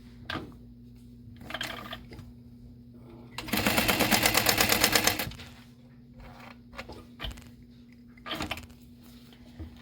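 A sewing machine top stitching a handbag runs in one fast, loud, even burst of about two seconds, framed by quieter handling clicks and rustles before and after.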